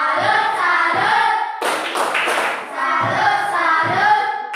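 Classroom students in a mathematics lesson chant together, then break off for three quick, sharp rhythmic claps of a 'tepuk salut' cheer before the group chanting resumes.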